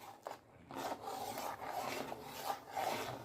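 Milk for kulfi is stirred in a pan over low heat, a steady soft scraping and rubbing that rises and falls in repeated strokes, close and quiet with no talk.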